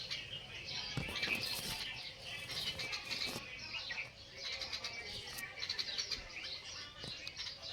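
A bulbul calls from a lemon tree on a farm plot, its bright chirps and tweets repeating in short irregular bursts at moderate distance over a soft outdoor background.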